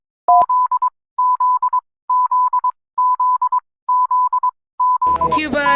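Cuba's emergency alert system sounds six clipped groups of rapid, Morse-like beeps on a single steady pitch, loud and close with short gaps between groups, before a voice starts talking at the end.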